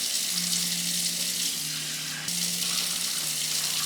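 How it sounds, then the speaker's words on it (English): Water gushes steadily from a tap into a kitchen bowl in a home, a continuous close splashing stream with a slight shift midway as the flow changes. "Put 1 quart of water into the bowl."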